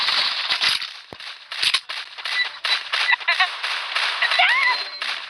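Video game gunfire crackles in quick, sharp bursts at close range. A voice talks excitedly over and between the shots through most of the stretch.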